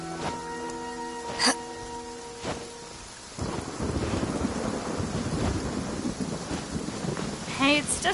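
A thunderstorm in the video game Genshin Impact brings a sudden swelling rumble of thunder over a constant hiss of rain, following a few seconds of sustained musical tones at the start.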